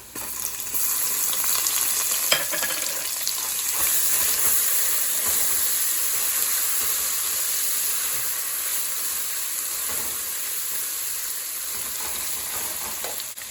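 A steady, even sizzle of ginger and garlic frying in hot oil in a pan, a continuous crackling hiss with no talking.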